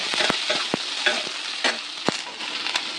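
Capsicum, chopped onion, ginger and garlic fry in hot oil for a cauliflower dish. A sizzle runs under repeated sharp spatula clacks and scrapes against the pan, heard up close with no voices.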